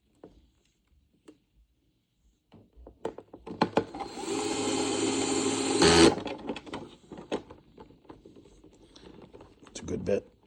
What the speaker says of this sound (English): I'll put the 3 screws in there.